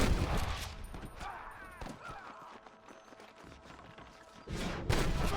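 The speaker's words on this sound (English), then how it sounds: "I can hear more gunshots." Gunfire in the Western video game Red Dead Redemption, a few sharp shots and crackling bursts in a dusty frontier soundscape, mixed with hoofbeats and game ambience, moderately distant.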